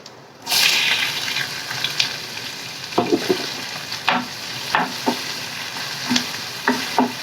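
Onions fry in a hot pan with a steady, close sizzle that starts abruptly, broken by repeated scraping and clinking strokes of a spoon stirring, no voices over it.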